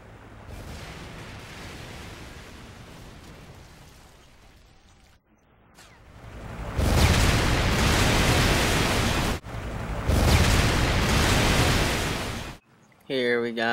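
A strafing-run kill streak in a first-person shooter sets off heavy rumbling explosions, two long roaring bursts after a quieter low rumble, loud and close, with a short burst of talk at the end.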